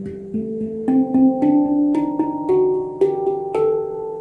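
Hang drum played in a slow two-note practice exercise, struck tones ringing one after another with long sustained overtones, steady rhythm, close and clear with no talking.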